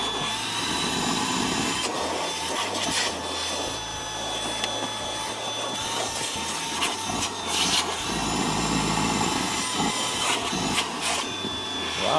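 A MOOSOO K23 Pro cordless stick vacuum cleans car seats with a steady, close whine, its tone changing as the nozzle scrapes, bumps and pulls crumbs across the upholstery.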